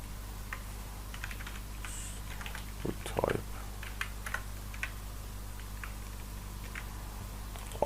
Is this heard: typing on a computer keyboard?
yes